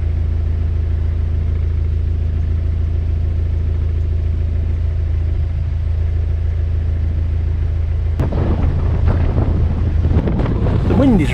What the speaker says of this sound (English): The wind is really starting to pick up now.